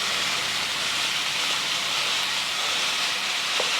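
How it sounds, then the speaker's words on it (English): Lean ground beef sizzling steadily in a pan, a continuous close hiss of frying with no talk. "Break it up so that you can cook it evenly."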